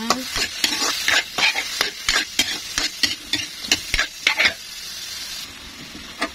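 Pancit canton noodles with carrot cooking in a pan, a run of sharp rhythmic stirring clacks over a constant frying sizzle, close by, the strokes stopping near the end while the sizzle carries on.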